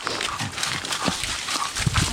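A few short, sharp dog barks and yelps close by in wild countryside, irregular and brief, over a noisy outdoor background.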